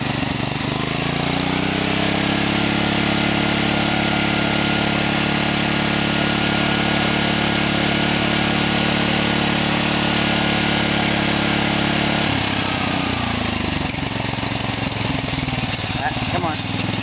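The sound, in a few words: OFNA Raider RC car nitro engine running, carburetor tuning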